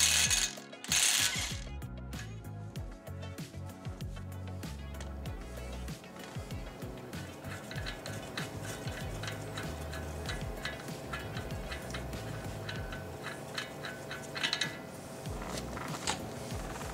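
A large hub nut on a Cadillac Escalade front wheel hub being removed with a 36mm socket, a steady, loud mechanical ratcheting whir that runs on continuously.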